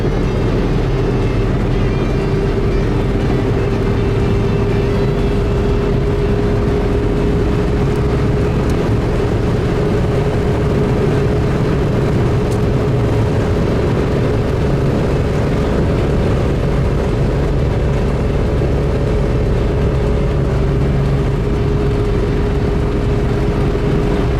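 A Peugeot 405 pushed hard along a French motorway fills the cabin with a loud, constant engine and road roar, a steady droning hum holding throughout with no speech.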